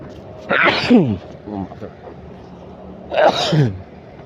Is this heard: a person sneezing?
yes